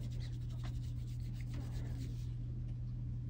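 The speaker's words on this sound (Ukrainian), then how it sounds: "Ось в тому місці, де я тру, монета стає просто біла." A stick rubs back and forth over an old coin to clean it, giving a soft, close scratching under a steady low hum.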